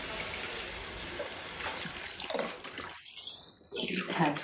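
Vegetable broth pours from a container into a soup pot of spicy couscous tomato soup, a steady close splashing gush that swells near the end, with faint background noise and no talk.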